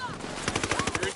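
Automatic gunfire in the video game Tom Clancy's Ghost Recon Wildlands: a short, close burst of about a dozen rapid, evenly spaced shots.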